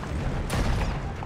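A tank cannon fires once in a Battlefield video game, a single loud, heavy boom that hits sharply partway through and rolls off into a dense, rumbling wash.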